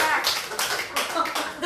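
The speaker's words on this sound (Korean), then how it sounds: "이럴 때는 웃는 게 아니고 박수를 쳐줘야 되는데" Clapping from a lecture audience, a burst of uneven hand claps coming in several quick clusters, moderately close, with voices mixed in among them.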